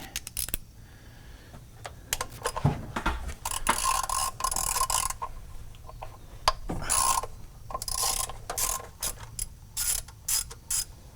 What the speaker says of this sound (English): So let's get a ratchet ready.